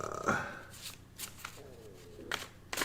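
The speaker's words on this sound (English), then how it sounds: "So shuffling up the cards, as you can see." A deck of cards for a tabletop hockey game is shuffled by hand, with quick riffling bursts and soft slaps at intervals, up close over light background noise.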